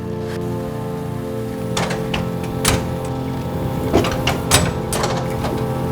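An old printing press runs in a print shop, a steady mechanical hum and rumble punctuated by irregular clacks and sharp knocks from the machine's moving parts, close and fairly loud.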